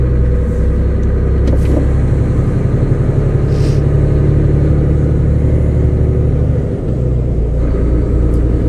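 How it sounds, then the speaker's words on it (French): A cold truck engine idles in the morning with a steady, loud low rumble, close by and continuous, its tone dipping briefly near the end. "J'adore le bruit qu'il fait le matin, le camion quand il est froid."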